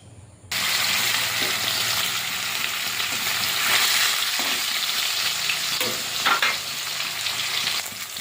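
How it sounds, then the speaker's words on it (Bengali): Katla fish frying in hot oil in a wok, a loud dense sizzle that bursts in suddenly and holds steady, with occasional crackles and spatters, close up and without talk. "কড়াইটা বসে মাছটা ভেজে নেব"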